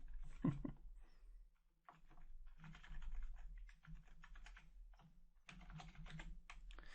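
Rapid bursts of keystrokes clatter on a computer keyboard, coming in irregular clusters with brief pauses between them against a quiet background hum.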